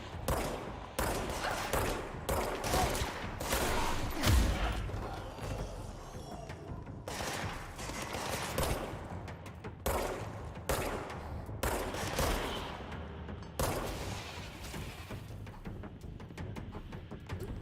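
Video game gunfire aimed at the player: bursts of rapid shots and machine-gun fire in clusters separated by short lulls, steady and fairly close throughout.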